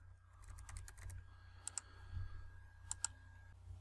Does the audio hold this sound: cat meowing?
no